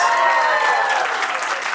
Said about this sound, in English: One more time, ladies and gentlemen, big round of applause for our line announcement team